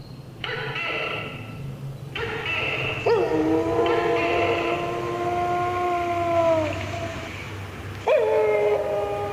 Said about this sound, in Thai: ผสมผสานกับเสียงสุนัขบ้านแล้วมันหอนรับกันเป็นช่วงๆ